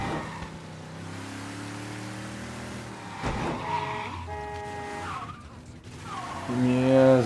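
Car driving in Mafia 3 on simulation handling mode, engine tones rising and falling with tyres skidding and squealing through turns, a loud steady drone with a surge near the end; a voice talks over it at times.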